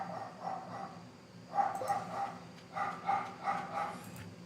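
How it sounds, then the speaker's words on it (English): Cartoonish dog barks from the Stardew Valley farming video game, several short bursts of two or three yips each, moderately loud and repeated across the clip with no talk over them. "Those stinking dogs."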